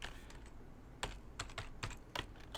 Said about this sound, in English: so hard typing with one hand after a full day's work of typing with one hand